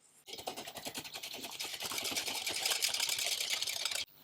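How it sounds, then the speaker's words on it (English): Eggs being whisked into pumpkin pie filling in a bowl, a rapid, steady clatter of whisk strokes that runs close and loud for about four seconds before stopping abruptly. "and now we whisk all that together."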